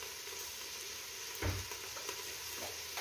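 Tomatoes and onions fry while being stirred, a soft, steady sizzling hiss broken by a single louder scrape of the spoon near the middle.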